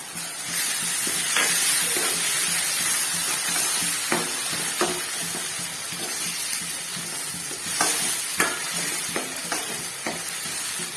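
Onion paste and ground tomato sauté in hot oil for a tamarind curry, hissing and bubbling steadily while a spoon scrapes and stirs in sharp intermittent strokes, close up with no talking.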